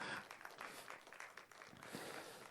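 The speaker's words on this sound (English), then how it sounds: "This is the time to clap." A distant audience claps together for a few seconds, a faint, continuous patter of many hands in a large conference hall.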